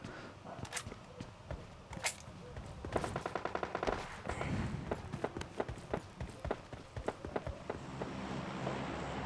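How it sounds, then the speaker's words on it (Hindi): Gunfire in a shooting video game, with rapid automatic bursts from an AKM and single cracking shots, dense and fairly close with footsteps mixed in, quiet overall. "बहुत सारे बंदों की बाहर फायरिंग भी चालू थी।"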